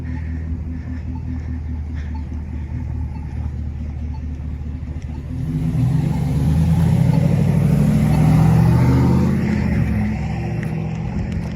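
A truck passes by a railroad platform in Downers Grove, its low engine rumble swelling from a quiet background about halfway through, peaking loudly, then easing slightly as it moves on.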